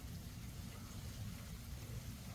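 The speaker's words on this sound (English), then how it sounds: "I don't know if you can hear that on video, but it's raining." Steady outdoor rain makes an even, continuous hiss with a low rumble underneath, constant and moderately faint throughout with no voices.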